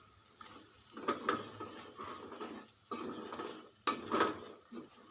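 A spoon scrapes and clinks against a metal pan while Kashmiri chili powder, coriander powder and garam masala are stirred together for mattar paneer. Sparse, quiet knocks come in irregular bursts, with one sharper clank near the end.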